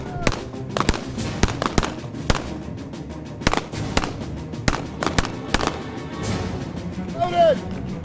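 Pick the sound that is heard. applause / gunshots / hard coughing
gunshots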